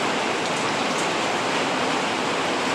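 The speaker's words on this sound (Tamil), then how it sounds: "நல்ல மழை பெய்யுது இங்கே" Heavy rain pours down in a steady, dense hiss, loud and unbroken throughout, with no voices.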